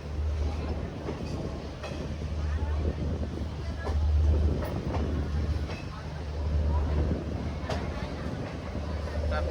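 An express train with ICF coaches runs at speed between Vijayawada and Chennai, giving a steady, loud rolling rumble with a low hum and scattered clicks of the wheels over rail joints.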